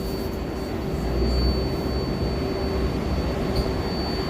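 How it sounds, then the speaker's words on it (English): Interior of a moving New York subway car heading toward Flushing Meadows in Queens, a loud, steady rumble of wheels and motors with a sustained high whine running through it. "We're inside the train now."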